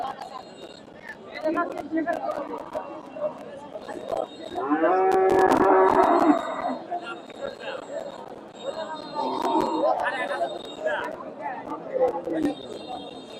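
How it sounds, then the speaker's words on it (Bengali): A native desi cow, by its description in milk and about eight teeth old, at a busy rural cattle market in Bangladesh, lowing once in a loud drawn-out call amid constant crowd chatter and nearby talking. "দর্শক এখানে মোটামুটি একটা সুন্দর একটা গাভী দেখতেছি দেশি"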